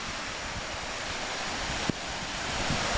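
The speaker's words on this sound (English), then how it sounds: "we've got beachy waves rolling in" Beach waves rolling in on North Manitou Island, a steady broad wash of surf blended with wind noise, with a brief thump partway through.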